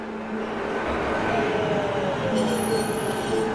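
Tram in the Black Mesa research facility from the Half-Life game, a steady rolling rumble with squealing, metallic wheel tones and a faint high whine that enters partway through, no voices.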